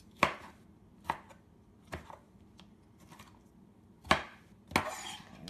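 A knife chops tomatoes by hand on a board: five crisp, separate thuds at uneven intervals, close and fairly quiet, with nothing else heard.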